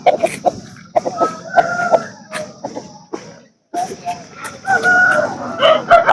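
Chickens and roosters at the Thursday morning hen market in the Punganur market yard, with loud nearby crowing and clucking, overlapping calls and a brief lull before more birds join in.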